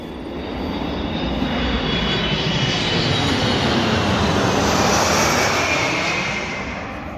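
A small propeller airplane flies laps near a small-town airport, its engine drone steady and fairly loud throughout, swelling slightly toward the middle and fading a little at the end.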